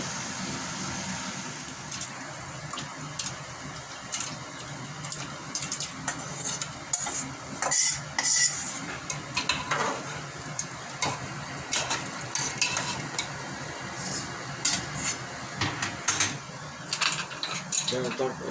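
Mutton browning in a pot as it is stirred, with irregular scraping and clinking of a utensil against the metal over a steady low background, the sound rising and falling in bursts.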